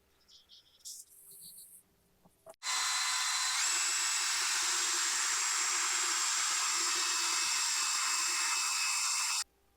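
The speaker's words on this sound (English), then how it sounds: "make some marks, start fighting the drilling process." A power drill runs steadily for about seven seconds, drilling pilot bolt holes for a track bar mount on a Jeep WJ axle, after a few brief handling clicks.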